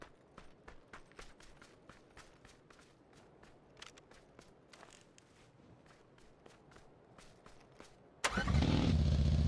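A vehicle engine in the PUBG video game starts abruptly and roars loudly at close range after a long stretch of quiet, steady footsteps.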